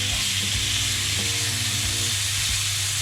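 Butter sizzling loudly in a hot pan while a steak sandwich cooks, a steady, close hiss with faint scraping and stirring knocks underneath.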